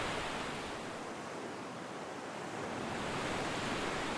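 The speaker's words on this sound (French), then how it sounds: "La vague se lève." Ocean surf roars steadily as a wave rises and breaks during a surf session on a tropical island, a loud, continuous wash of broadband noise with no voices.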